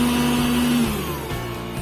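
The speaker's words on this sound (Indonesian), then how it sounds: "Lihat teman-teman, sudah mutar kencang, dia tidak terlepas atau tidak mabur." A Philips blender's motor spins fast with a loud, steady high-speed whir and a constant tonal hum that dips slightly partway through, running alone without talk.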